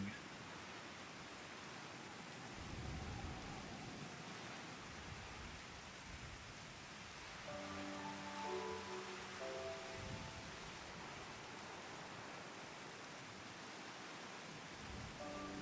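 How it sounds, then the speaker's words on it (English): Steady hiss of rain falling in the video game Final Fantasy XIV, a dense continuous wash of noise, with a brief tonal hum rising out of it midway through. "It's raining."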